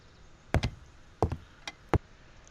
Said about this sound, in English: just more creaky floor.